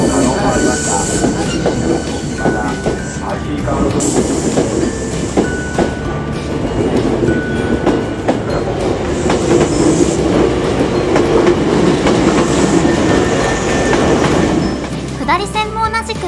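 A Hankyu Kyoto Line train departs a station, rumbling and clattering loudly along the tracks, wheels clicking and squealing over a continuous roar, with a muffled announcement voice in the background.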